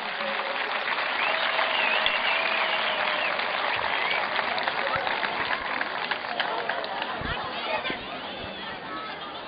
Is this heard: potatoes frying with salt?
no